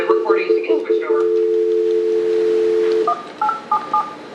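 Telephone keypad DTMF tones dialing back into an AT&T teleconference line during a board meeting: a quick burst of short beeps, one long held tone for about two seconds, then a few more short spaced beeps, loud and clear.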